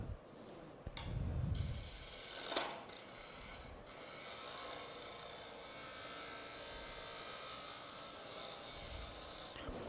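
A gouge cutting a scrap-wood bowl-shaped vase spinning on a wood lathe, a steady, faint scraping rasp with a low rumble and a few brief louder bursts early on.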